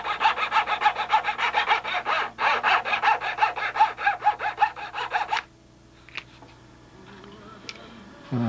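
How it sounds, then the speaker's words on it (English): A hand saw cuts a carbon piece with fast, rhythmic back-and-forth strokes for about five seconds, pausing briefly once, then stops, leaving faint clicks and handling noise. "this is the part here I need to saw off very carefully"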